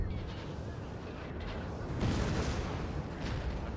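Artillery barrage in Napoleon: Total War, a dense, distant rumble of cannon fire with overlapping booms, steady and fairly quiet, swelling slightly partway through.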